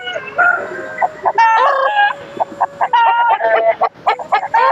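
Loud, close calls of fighting roosters in quick succession, with strained crowing-like cries and clucks overlapping from several birds, no talking.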